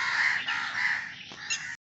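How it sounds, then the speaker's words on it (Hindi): Crows caw at the lake in Bhopal, a harsh, loud, close cawing chorus that runs almost without a break before cutting off. "कितने सारे कौए बैठे हैं यहाँ पर देखो।"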